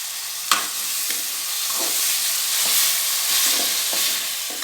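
Ginger garlic paste and tomato fry in a pan for mushroom biryani, a dense, steady, loud sizzle throughout with a few soft stirring scrapes, close up and without speech.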